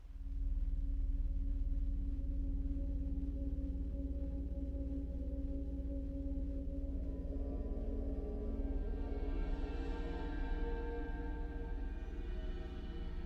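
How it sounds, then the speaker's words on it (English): A dark ambient soundscape from the Gravity 2 library, built from a steady low drone and sustained tonal layers, with a brighter shimmering texture rising near the end. "another soundscape that I brought in a little more dark is from Gravity 2"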